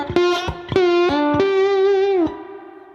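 Electric guitar slide lick in open G tuning, with a few plucked attacks and bright sustained notes that glide between pitches, a lower note sliding up to join a held tone that rings out and then stops cleanly.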